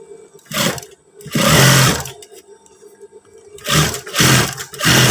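A sewing machine runs in several bursts, stitching the side seam of a pair of PDL-style trousers with back pockets, loud and close with brief pauses between runs.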